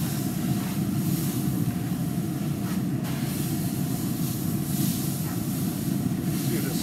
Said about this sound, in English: We're gonna go ahead and spritz with our engine sprayer.